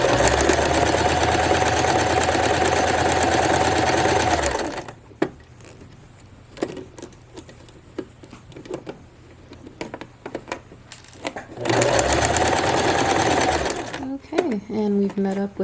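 A sewing machine stitches a horsehair hem on a formal dress, running in two loud steady bursts with a quieter stretch of handling noises between them.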